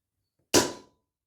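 A single sharp air rifle shot fired at a rat during night hunting, one quick crack with a short fading tail, then silence.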